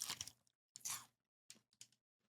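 Someone bites into a Kit Kat strawberry chocolate cake, giving a few short, close crisp crunches separated by brief silences.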